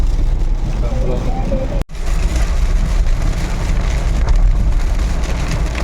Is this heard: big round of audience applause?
no